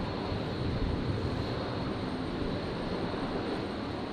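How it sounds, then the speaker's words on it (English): A Fokker aircraft runs up its engines at Brisbane airport, a broad, continuous roar heard from some distance, steady and loud without break, with no talk over it. "Is there an engine run up going on? Is that the Fokker?"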